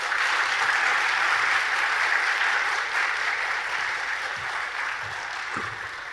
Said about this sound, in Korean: 나오실 때 큰 박수로 축복해 주시면